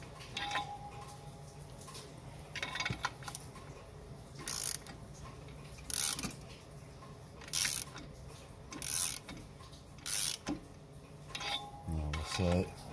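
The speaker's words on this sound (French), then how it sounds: "On va serrer vraiment par passe, hein. On évite de serrer une vis tout d'un coup." Clutch screws being tightened in passes on a Golf 6 2.0 TDI CBDC during a clutch replacement, heard as repeated metallic ratchet clicks in short bursts with occasional tool clinks, close and fairly quiet.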